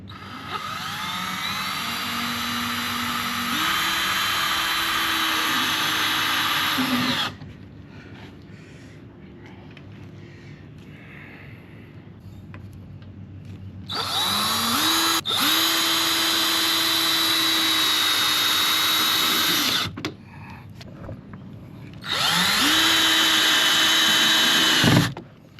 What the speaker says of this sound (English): And we're gonna drill it.